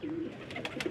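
Pigeons cooing softly nearby in a series of low, rounded coos with faint chirps between them, and no voices.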